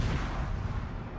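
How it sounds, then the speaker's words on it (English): Naval 5-inch turret guns on a Tier X US heavy cruiser firing in World of Warships, a dense, continuous low booming barrage that rumbles steadily throughout. "small little 5-inch turrets that just spits out the shells"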